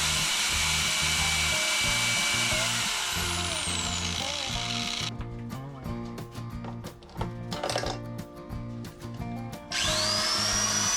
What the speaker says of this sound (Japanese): グラインダーもバリバリ使います。